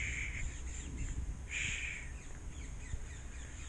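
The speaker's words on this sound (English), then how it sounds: "the birds are noisy here this morning" Crows cawing in the morning, several harsh repeated caws at moderate distance in two clear bursts, with other birds calling faintly over an outdoor background hum.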